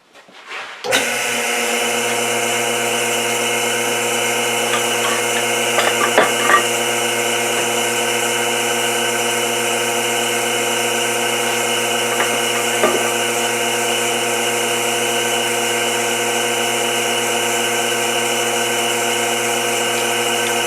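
A wood lathe motor starts up and settles into a steady whirring drone, with occasional faint tool contacts scraping against a spinning wooden bowl held on a vacuum chuck.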